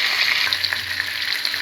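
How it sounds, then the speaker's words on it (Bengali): Katla fish heads frying in oil until reddish brown make a loud, close sizzle with a brief stirring scrape, all in one short burst. "মাথাগুলো আমার লাল লাল করে ভাজা হয়ে গিয়েছে।"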